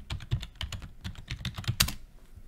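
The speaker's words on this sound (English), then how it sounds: "But you can keep on typing possible answers," Rapid keystrokes on a computer keyboard while entering poll answers in a messaging app, a close, steady patter of clicks with a few louder taps and no speech.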